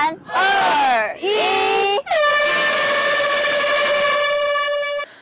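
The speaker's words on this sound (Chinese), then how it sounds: "产发处长林鼎超、科长蔡富宁跟立委林佩祥等贵宾一起鸣笛启动。" At the start of the 20th Taiwan-Ryukyu Cup international sailing regatta, a round-island race off Keelung Islet in Taiwan, a loud air horn blares. It sounds in wavering bursts, then holds one long steady blast for about three seconds.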